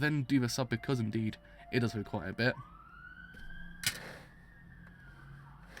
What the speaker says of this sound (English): That was a ambulance again, right at the end.